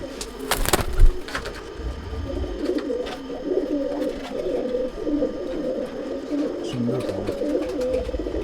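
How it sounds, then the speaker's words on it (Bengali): A fancy pigeon coos low and steadily, almost without a break, with a few sharp handling knocks near the start and occasional speech over it. "আমার দাদার ঘরের এই পায়রাটা"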